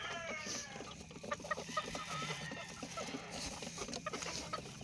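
Chickens cluck continuously at close range, with overlapping short clucks and calls forming a busy, steady farmyard chatter.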